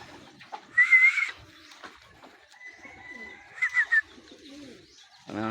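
Racing pigeons arriving at the home loft after a training race give a few soft, close coos and short calls, separated by quiet gaps.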